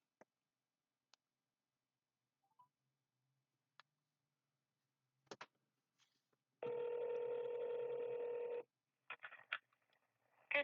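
A phone call is dialed: sparse soft keypad taps, then a steady ringback tone lasting about two seconds, followed by a few short beeps, all quiet and with no talk.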